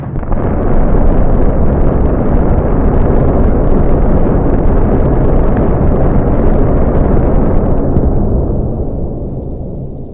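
Nuclear ground burst detonation effect: a massive, sustained low rumbling roar that starts at full loudness and stays dense and heavy for about eight seconds before slowly fading.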